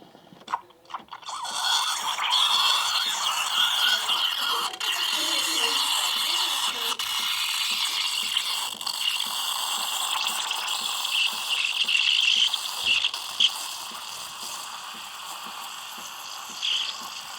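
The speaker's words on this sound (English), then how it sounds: "So you can hear that tearing noise. That's the noise you're looking for." An espresso machine steam wand aerating milk for microfoam gives a loud, continuous hissing and tearing roar that starts abruptly and holds steady, close to the microphone, with small crackling fluctuations.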